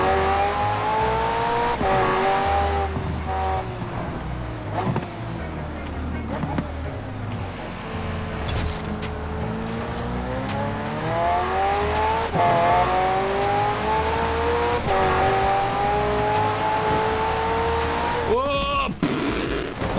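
A car races in the Forza Horizon 4 video game, its loud engine droning steadily as it rises and falls through gear changes, with brief knocks and skids, while a person talks over it.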